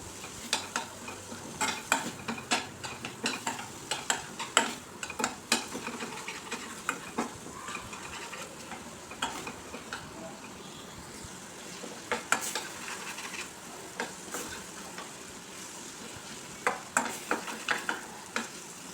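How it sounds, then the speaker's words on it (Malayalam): Chicken curry with added salt sizzles in a pan as a utensil stirs it, giving steady frying hiss with frequent sharp scraping clicks against the metal, close and moderately quiet, with no talking. "കുറച്ച് ഉപ്പുപൊടി ആഡ് ചെയ്ത് കൊടുക്കണേ എന്നിട്ട് നന്നായിട്ടൊന്ന് ഇളക്കി കൊടുക്കാം"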